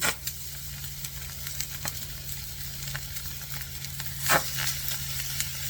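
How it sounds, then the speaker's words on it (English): Duck breast searing fat side down, sizzling and crackling steadily in a hot pan, a continuous close hiss with occasional pops and a louder burst midway. "You hear that? It's sizzling."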